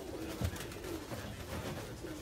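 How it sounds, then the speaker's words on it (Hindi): Soft low pigeon coos repeat a few times nearby over a rough, rustling background. "लो जी ये कबूतर आया मेरे पास, ये हमारी बड़ी ज़बरदस्त ब्रीड है"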